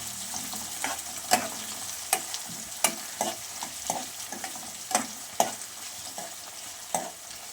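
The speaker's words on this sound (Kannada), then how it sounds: "ಸೊ ಇವಾಗ ಅದು ಗೋಲ್ಡನ್ ಕಲರ್ ಬರೋವರೆಗೂ ಫ್ರೈ ಮಾಡೋಣ" Onions for chicken curry fry until golden in a pan, a continuous close sizzle punctuated by regular sharp stirring scrapes about once a second.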